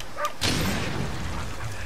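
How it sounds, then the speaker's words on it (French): A dog gives a couple of short barks close by, followed by a lower rumbling thump under a steady background of game sound. "ça sert à rien d'aboyer dessus"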